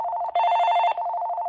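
An AT&T E6014B cordless phone's ringtone plays at a distorted, buzzy level: a steady electronic trill that shifts to a brighter, harsher tone midway before dropping back, loud and close with no talking.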